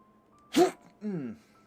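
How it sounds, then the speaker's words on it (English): One sharp allergy sneeze bursts out suddenly, followed by a short voiced exhale, close and loud in an otherwise quiet room. "I've been holding back a sneeze all morning. Couldn't hold it any longer."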